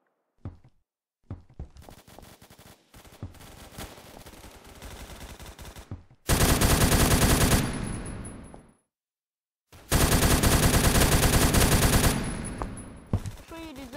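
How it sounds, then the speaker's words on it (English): Automatic gunfire in the video game Phantom Forces, heard as two long, loud, sustained bursts of rapid fire separated by a brief pause, with softer clatter and shots before them. "you just gotta shoot them like this"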